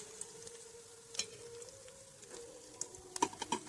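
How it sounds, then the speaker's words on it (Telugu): Onions and green chillies frying in oil for a ridge gourd and dried prawn curry, a faint steady sizzle with a few sharp clicks and scrapes of stirring toward the end. "ఈ ఉల్లిపాయ పచ్చిమిరపకాయలు కూడా కొంచెం కలర్ చేంజ్ అయ్యే వరకు ఫ్రై చేసుకోవాలి"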